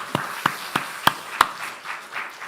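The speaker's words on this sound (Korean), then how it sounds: "우리 박수로 다시 한번 감사 박수 합시다" A congregation in a church service claps together, sharp separate claps in a loose uneven rhythm, near and moderately loud, with no talking.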